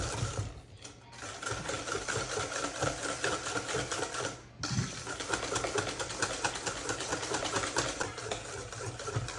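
Electric mixer beating apple cake batter until smooth, a steady close whir with rapid rattling texture that dips briefly twice, no voices.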